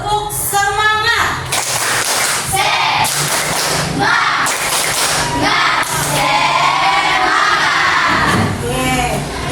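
A classroom of schoolchildren claps and chants a motivational rhythm together, loud and close, with sharp clap bursts and shouted group voices throughout.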